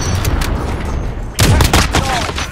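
An AX-50 sniper rifle fires in a first-person shooter video game, one loud, sharp blast cutting through a constant rumble of distant gunfire and battle noise.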